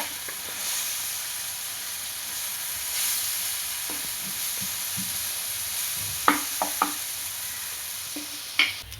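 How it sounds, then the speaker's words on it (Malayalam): Cashews, raisins and peanuts frying in ghee give a steady soft sizzle with light stirring scrapes, punctuated by a few sharp clicks and pops near the end; no one speaks. "ഇനി കുറച്ച് നെയ്ക്കകത്ത് കുറച്ച് അണ്ടിപ്പരിപ്പും മുന്തിരിങ്ങയും പിന്നെ കുറച്ച് കപ്പലണ്ടി കൂടെ ഞാൻ ചേർത്തിട്ടുണ്ട് അവിടെ മൂപ്പിച്ച്"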